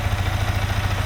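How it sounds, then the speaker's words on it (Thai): A 2022 Yamaha XSR155 motorcycle engine idles steadily nearby, a low, even putter with a regular pulsing rhythm and no voices. "นี่เสียงเครื่องยนต์อะไรต่างๆ เดินเบานิ่งๆแบบนี้นะครับ"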